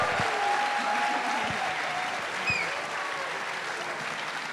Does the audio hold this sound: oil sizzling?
no